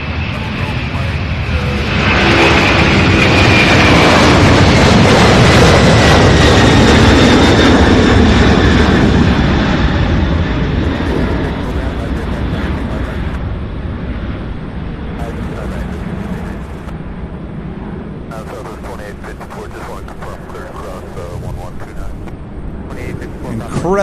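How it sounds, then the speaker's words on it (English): A McDonnell Douglas MD-11 takes off at Louisville airport, its broad jet-engine roar swelling loud and near before fading into a steady distant rumble as it climbs away, with talk over the top. "All right, here's the MD-11."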